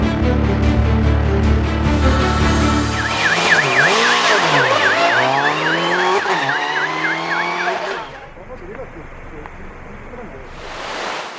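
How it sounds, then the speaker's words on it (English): A Toyota GR Yaris rally car on a gravel rally special stage, engine loud and near, revving hard through gear changes with rising and falling pitch, then fading as it passes and leaves. "The winner of 2022 Kumakojin Rally, Norihiko Katsuda, with a Toyota GR Yaris"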